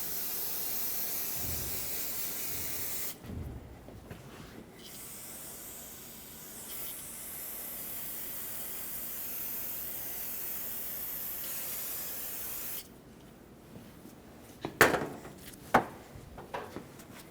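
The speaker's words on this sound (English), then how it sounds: "Use some brake parts cleaner and spray all of this where the brake fluid leaked so you can get it all off." Brake parts cleaner sprays in long steady hissing bursts over a leaking brake caliper on a 2000-2005 Ford Excursion, close and continuous for about ten seconds, followed by a few faint knocks and clicks.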